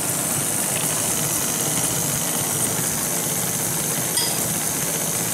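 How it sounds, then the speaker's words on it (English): A stand mixer beats cream cheese pound cake batter with a constant, loud motor whir and a dense, even churning hum that holds steady with no pauses. "You don't want your mixer turned too high, because if you do, the flour will go everywhere."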